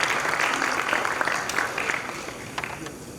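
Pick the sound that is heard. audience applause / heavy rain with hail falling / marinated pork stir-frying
audience applause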